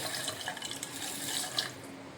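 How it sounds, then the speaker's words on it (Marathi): Water runs steadily from a bowl onto sugar for a sweet dough syrup, giving a continuous close splashing wash with no talk. "अर्धी वाटी पाणी घेतलेलं आहे, ते आपण याच्यामध्ये घालून घेऊया"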